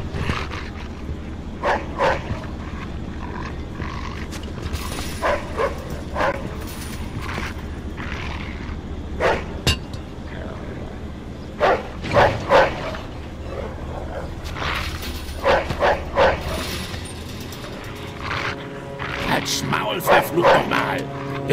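Dog barking inside the video game Mafia 2: scattered short yips and barks at varied distances, layered over a steady game ambience with voices talking in between.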